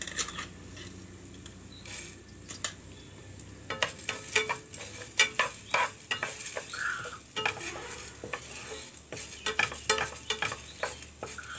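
Whole coriander seeds dry-roasting in a pan while being stirred, a close, steady series of rattling scrapes and light ticks from the spoon against the metal, with a soft sizzle underneath and no talking.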